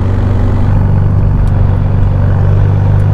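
A black Novitec Ferrari F8 N-Largo driving out of the city, without the full sport exhaust system fitted, gives a loud, steady engine and exhaust drone with a deep, even hum heard from inside the car.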